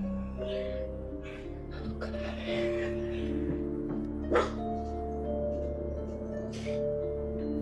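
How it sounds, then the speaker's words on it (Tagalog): A dog barks and yips angrily inside a house at midnight, short sharp calls spread over several seconds against a steady tonal hum in the background. "Maririnig sa video ang galit ng aso"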